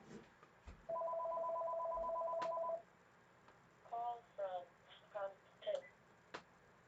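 A telephone with caller ID gives a steady electronic tone lasting about two seconds, then a series of short chirping beeps follow, quiet and close in a room.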